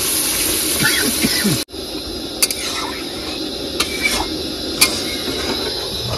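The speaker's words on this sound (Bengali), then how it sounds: "কষানো কিন্তু হয়ে গেছে, এবার জল দিয়ে দেবো" Water is poured into a pan of browned chicken curry. A short gushing pour lasts under two seconds and stops abruptly, followed by a quieter simmer with a few small clinks and taps.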